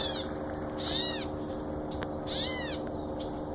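A strange call from a tree, each time a pair of high, arching wavering cries repeated twice a second or so apart over steady outdoor background hiss, moderately near.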